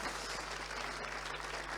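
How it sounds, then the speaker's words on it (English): Dense applause from a crowd at an awards dinner, continuous clapping filling the room at steady loudness over a low hum. "Give them a huge round of applause."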